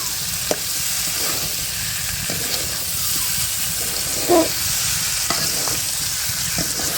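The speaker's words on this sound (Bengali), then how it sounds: "মাংসটা যত ভালো করে কষাবো রান্নাটা তত খেতে স্বাদ হবে" Chicken meat sautés in oil in a pan with a steady, loud sizzling hiss, broken by a few sharp clicks and the scrape of a stirring spoon.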